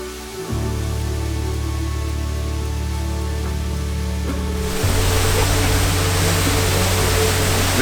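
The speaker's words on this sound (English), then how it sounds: "There is a waterfall." Continuous rushing hiss of a waterfall in Albania, steady throughout, with a low droning hum underneath for the first part that cuts out midway as the water noise grows louder and brighter.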